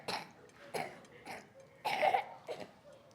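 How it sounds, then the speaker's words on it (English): A baby coughs repeatedly in short, separate bursts, some harsher and throatier than others, heard close and fairly quiet with no talk over them. "She won't stop coughing."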